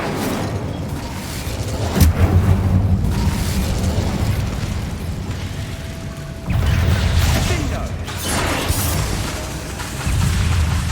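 Incendio fire spell blasts in Hogwarts Legacy come as booming, fiery bursts, with a sharp whoosh around two seconds and heavier rumbling eruptions later, over a steady background of game combat noise.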